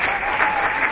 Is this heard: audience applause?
yes